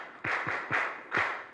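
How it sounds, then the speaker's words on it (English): A crowd at a corporate banking launch event claps in a brief patterned rhythm, three or four soft, roomy bursts heard from a distance. "Then we clap for Matt Abacus and Ankolo."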